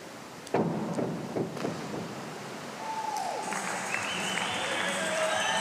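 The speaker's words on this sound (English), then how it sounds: "the coaches are giving it plenty of applause there" Coaches poolside at a men's 3m springboard diving semi-final clap for a dive, a few scattered, fairly faint claps early on, then a breezy, roomy background wash that fills the rest.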